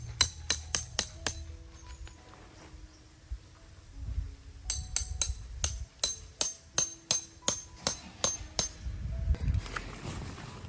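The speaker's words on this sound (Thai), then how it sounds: "ตอกสมอเข้ารูนี้นะ" Rapid metallic hammer strikes drive a tent stake into the ground while pitching a DOD Kamaboko Tent 3, ringing out in two quick series, each blow sharp and clinking, with brief pauses and soft rustling between.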